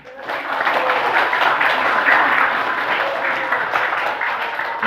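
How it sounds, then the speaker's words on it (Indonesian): Audience applause at a pesantren kilat gathering of PP DDI students in Merauke, a dense crowd clapping that swells quickly and holds steady at full volume for several seconds. "Tepuk tangan untuk PPDDI."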